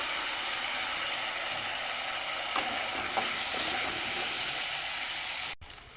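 Raw turmeric frying in hot oil makes a loud, even sizzle with a couple of light stirring ticks, then drops abruptly near the end to a quieter hiss.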